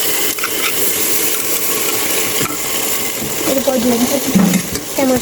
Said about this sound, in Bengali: মশলাটা ভাজার তেলের উপরে ভাজতে হবে